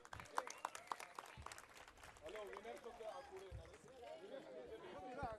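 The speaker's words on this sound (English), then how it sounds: "A small request again with a warm round of applause." Applause and cheering from a crowd welcoming Deepika Padukone at a photography awards event in Mumbai, with chatter and voices mixed in throughout.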